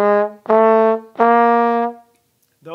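Trombone plays a short passage of sustained, steady notes from an ensemble piece, three clear tones in a row with brief gaps, loud and close, followed by the start of a voice.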